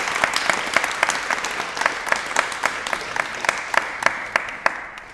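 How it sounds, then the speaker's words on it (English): Audience applause at an author event for climber Sasha DiGiulian, a dense wash of clapping with sharp individual claps popping out, gradually thinning toward the end. "Round of applause for Sasha here."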